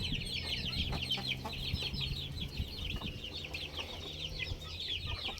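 Chickens cluck and chatter steadily in a coop, several birds at once at a moderate distance, with a continuous low background hum beneath the calls.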